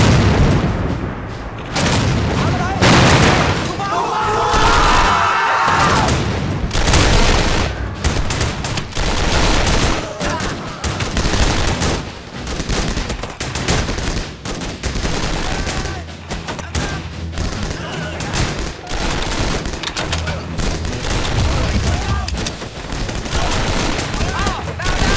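Heavy artillery barrage mixed with rapid gunfire in the war game 7554, with loud booms and dense bursts of shots rolling continuously for a long stretch, some voices shouting through the din.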